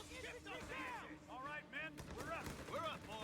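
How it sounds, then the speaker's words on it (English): Rifle and machine-gun fire crackles in Company of Heroes 3 during an Italian campaign battle for Salerno, scattered shots mixed under loud shouting soldiers' voices throughout. "The cowards are shooting at us! Shoot back!"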